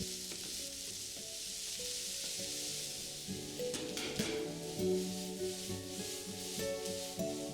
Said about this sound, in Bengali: এবার পেঁয়াজটাকে মিডিয়াম ফ্লেমে 3 থেকে 4 মিনিট ভালো করে একটু ভেজে নিতে হবে।